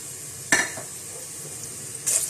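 Whole spices, cloves, black pepper, cinnamon, black cardamom and white cumin, fry in hot oil in a pan with a steady crackling sizzle, broken by two clinks of a utensil stirring them.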